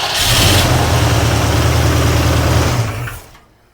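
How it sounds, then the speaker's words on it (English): A car engine cranks and fires with its valve cover off, spraying oil as it runs loudly and steadily for about three seconds before cutting off abruptly. "we're going to start the engine for a couple seconds with the valve cover off"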